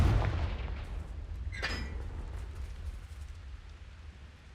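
In Hogwarts Legacy, a Confringo explosive spell goes off as a single sharp blast, heard after a heavy low rumble that slowly fades beneath a crackling burst of fire, with no voices.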